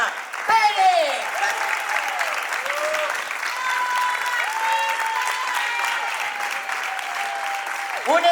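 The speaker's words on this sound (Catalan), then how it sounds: "I anem a donar-li un aplaudiment a les nostres gallines, Lucía i Dempona." An audience at a modernist-fair theatre play in Carcaixent applauds steadily and densely throughout, while an amplified voice talks over the clapping with long, drawn-out calls.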